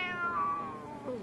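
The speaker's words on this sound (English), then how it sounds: "Watch out for the cat." A cat meows clearly and close by, one drawn-out falling cry followed by a shorter rising call, with a quiet background and no talking.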